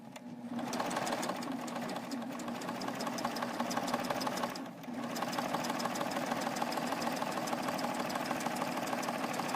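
A serger sewing machine runs steadily with a fast mechanical whir as crocheted trim is fed through, pausing briefly near the middle before resuming, close and loud with no talk.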